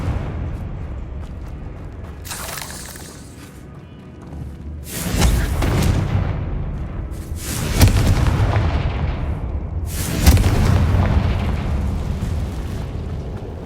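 Three heavy Confringo explosion spells blast in Hogwarts Legacy, each a loud booming burst with a long rumbling tail, coming a few seconds apart over a low background rumble.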